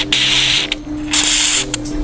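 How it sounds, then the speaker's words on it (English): Two sharp hissing sprays of lubricant from an aerosol can into a door hinge, each about half a second, close up, with a faint mechanical squeak between them. "we're gonna just spray along here"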